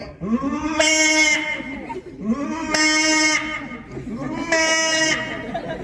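Someone mimics a goat's bleat three times, each a wavering, nasal call repeated at a steady pace, close to the listener.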